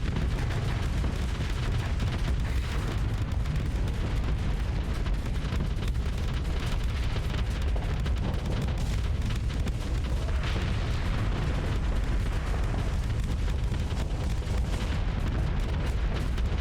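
Missile explosions in a Starsector space battle merge into a dense, continuous rumble of overlapping booms and bursts, loud and unrelenting, with no voices.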